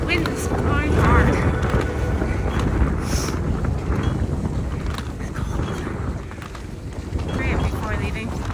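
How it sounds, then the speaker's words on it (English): Strong wind gusting hard across a mountainside at high altitude in deep cold, a steady broadband roar with rumbling buffeting against the microphone throughout. "Wind is blowing hard."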